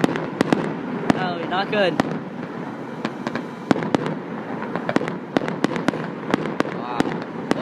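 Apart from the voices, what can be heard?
fireworks exploding at a winter fest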